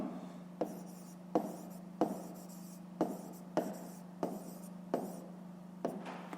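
Pen strokes on paper during a fifth-grade math exercise, a quiet series of about eight short, regularly spaced scratches, each a brief burst followed by a pause, heard alone.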